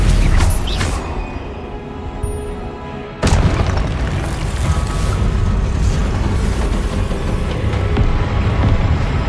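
A Confringo blast spell in Hogwarts Legacy bursts with a sudden heavy boom a few seconds in, then gives way to a loud sustained rumbling roar that fills the rest of the stretch.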